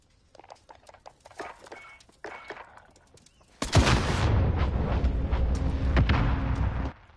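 A frag grenade explodes in Call of Duty: a sudden loud blast, then a long, dense roar of debris and rumble for about three seconds before it cuts off, following quieter in-game clicks and shuffling.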